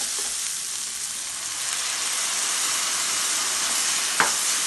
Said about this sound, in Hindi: जब मसाले भुन जाते हैं तो खुशबू लाजमी आनी है और ये टमाटर